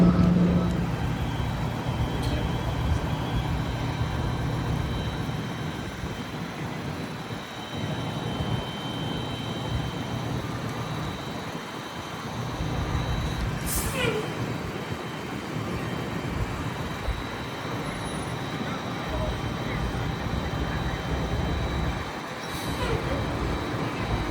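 Bobcat skid-steer loader running on a downtown Chicago sidewalk behind a bus stop, a steady low engine rumble blended with surrounding city traffic, fairly continuous with a couple of brief sharper sounds.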